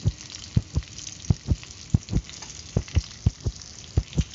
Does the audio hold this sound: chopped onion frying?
yes